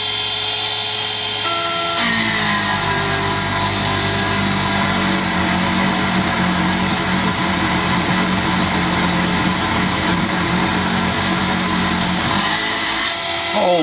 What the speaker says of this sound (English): 3/8 titanium coated roughing end mill.